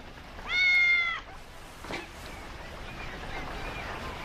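A single clear cat meow in a Grimm fairy tale adaptation, one drawn-out cry near the start, then quiet background with a faint rustle.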